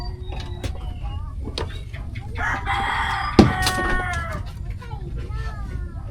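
Backyard chickens with a rooster crowing clearly in the foreground, several rising crows and scattered clucks over a low outdoor rumble in a Philippine home setting, a person speaking in between.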